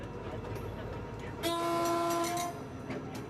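Freight train on a European rail line: a loud, sustained horn blast lasts about a second over a constant rumble of rolling cars and track noise.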